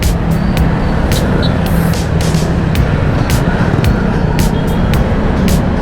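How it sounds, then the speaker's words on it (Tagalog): Large trucks move through busy midday service-road traffic, a loud continuous roar of engines and tyres close by, with sharp intermittent clanks and rattles cutting through the rumble. "Ayan no, mga truck na malalaki."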